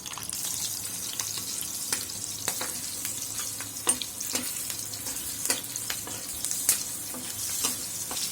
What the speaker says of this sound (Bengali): তেলগুলো গরম হয়েছে এখন দিয়ে দেবো মরিচ